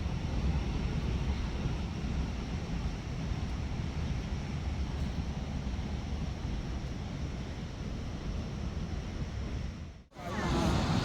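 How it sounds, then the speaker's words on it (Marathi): Forceful water rushes down small waterfalls at Mahabaleshwar as a dense, continuous roar that fills the whole stretch, broken by a brief dip near the end. "हा काय फोर्सने पाणी वाहते बघा"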